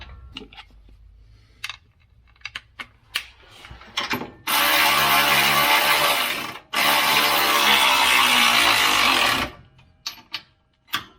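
A bolt is ratcheted in while mounting rock sliders on a Land Cruiser, starting as scattered clicks and then turning into two long, loud, steady runs of rapid ratcheting split by a short pause, with a few more clicks after.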